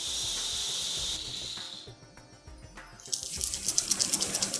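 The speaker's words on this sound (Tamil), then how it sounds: "அது இந்த ஸ்டேஜில் தண்ணி விடலாம்." Water poured into a wet grinder while grinding dal for thogayal, a bright hissing stream that stops, then machine rattling and splashing pulses resume.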